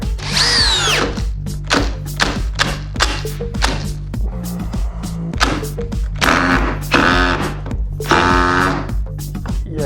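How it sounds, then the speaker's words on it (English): A Makita driver bit drives a screw into a hard cedar board in a rapid series of loud, chattering bursts. The bit slips and grinds against the screw head throughout, close and with no talk. "Let's start off with the Makita bit and see how far this thing will go in."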